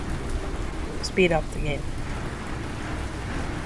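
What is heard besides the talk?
rain in the video game Exploring Ancient Worlds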